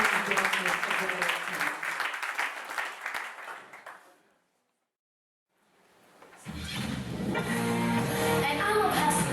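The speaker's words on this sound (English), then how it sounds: "please receive Miss Amanda Bowser with a hand clap of praise as she begins this tribute" An audience claps for a tribute performance by Miss Amanda Bowser; the applause fades into a brief silence, then a loud burst of music with singing takes over.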